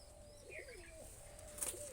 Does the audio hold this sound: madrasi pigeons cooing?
yes